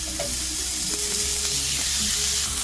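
A beef burger patty sizzles on a hot oiled grill pan, a dense continuous hiss and crackle, close and steady throughout with no voices.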